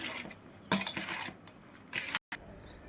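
Spoon stirring fried peanuts and oil through mango rice in a pan for pulihora, a few scraping clinks against the metal, close and moderately loud with short pauses.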